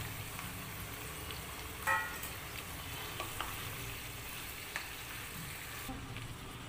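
Large chunks of boiled potato and peas are stirred and fried in a pan for samosa filling, giving a steady soft sizzle with occasional scraping clinks of the spoon and no talk.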